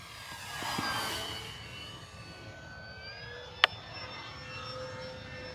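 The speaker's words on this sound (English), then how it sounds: "I do not like the noise though from the motor. It's so strange." Electric motor of an FMS P-51 Miss America 1.1 m RC plane in flight, a whining tone that shifts in pitch as it passes, louder early then fading, with one sharp click midway.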